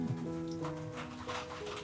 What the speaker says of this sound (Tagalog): Ay, may aso naman pala mga angagat.